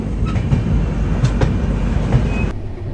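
The Sealdah–New Delhi Rajdhani Express rolls along the tracks in India, making a loud, steady rumble with rhythmic wheel clacks, heard from on board or very close. The sound cuts off abruptly near the end.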